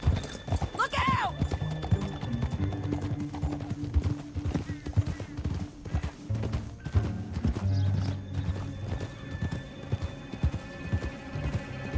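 Horses gallop through a canyon in the Western video game Red Dead Redemption 2, a steady run of hoofbeats with a neigh early on, under game music and spoken dialogue.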